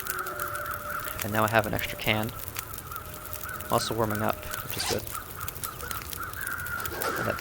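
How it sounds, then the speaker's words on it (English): In-game crows caw in The Long Dark snowy survival game, two short bursts of harsh repeated caws over a low wind-like ambience, while someone talks over part of the scene. "Those bear crows spooked me."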